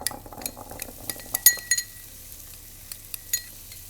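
Chickpeas sizzling in a frying pan as they are stirred, with soft frying crackle and scattered clinks of a utensil against the pan, fairly quiet and close, no talking.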